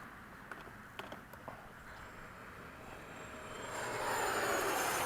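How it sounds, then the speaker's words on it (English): An FMS 70mm F/A-18 RC model electric ducted-fan jet flies at a field, faint at first and then swelling into a loud, hissing whine that holds steady. "I think that plane flies better with no wind."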